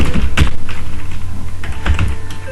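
Rapid keystrokes on a computer keyboard while entering text for an HTML web page table, a close, steady patter of clicks with a few louder taps.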